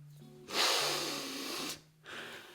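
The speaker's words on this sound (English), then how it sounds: "When I do those big sniffs, not so great all the time." A long, forceful sniff through the nose while smelling a Roja Isola Blu clone fragrance, then a brief pause and a second shorter intake, close and breathy.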